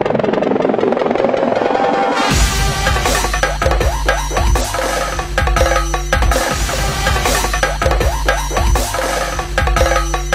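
A helicopter carrying a wedding party roars loudly and close, its rotor thumping in a steady rhythm after a quieter opening with music.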